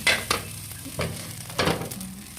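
Simple fried rice cooking in a pan over a firewood fire, with short scraping stirs and bursts of sizzle coming in quick irregular strokes, close and fairly loud.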